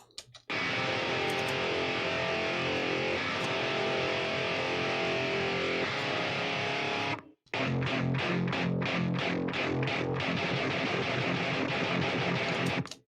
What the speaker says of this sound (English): The Iron guitar sounds like this.